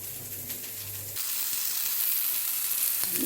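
A loud, bright sizzle of homemade burgers frying in a pan lightly brushed with a small amount of oil hisses steadily, building after a brief low hum at the start.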